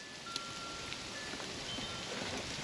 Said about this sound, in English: We knew the icy rain was coming.